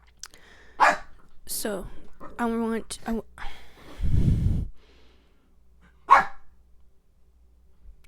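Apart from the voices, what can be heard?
dogs barking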